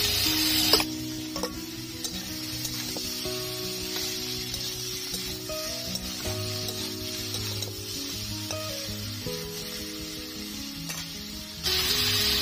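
Bathua greens frying in a pan with fried eggplant added, a steady close sizzle running throughout with stirring scrapes and clicks and soft tonal background sounds, and no one talking.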